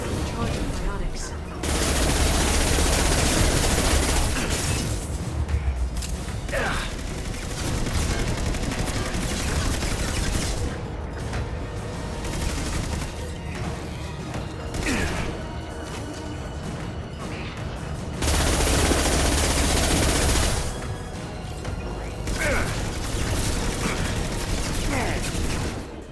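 Sustained heavy gunfire rattles through a Mass Effect 2 combat scene, dense bursts and crashing impacts running nearly continuously with a few brief lulls, loud and close.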